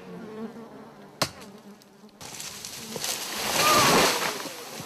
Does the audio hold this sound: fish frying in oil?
no